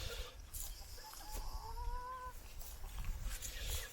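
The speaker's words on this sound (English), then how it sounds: "there are 4 cockerels in here now and 10 hens" A mixed flock of four cockerels and ten hens in a chicken tractor clucks softly, with a few short calls rising over a faint, noisy outdoor background.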